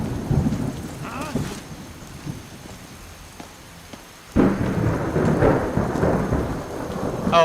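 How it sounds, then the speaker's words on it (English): Rain falls in Skyrim with a low rumble of thunder; after a quieter stretch, a loud burst of heavier rain and thunder swells up and continues. "Oh, it's raining, so I'm hard to see."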